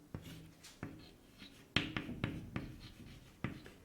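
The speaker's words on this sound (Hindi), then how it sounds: "तो अब इसमें मैं लिख रहा हूँ कि क्या चीज़, कि सर्वप्रथम यहाँ लिख रहा हूँ" Someone writes on a board during a chemistry lesson on aluminium extraction, producing close, sharp taps and short scratchy strokes in an irregular rhythm with brief pauses between marks.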